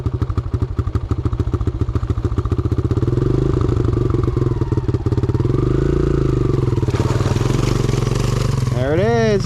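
A dirt bike engine thumps up close, its pulses speeding up and then settling. The pitch shifts as it changes down a gear, and a voice breaks in at the end.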